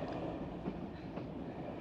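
A steady, dense rumble of a train rolling along rails, continuous and fairly close, with faint rhythmic clatter beneath.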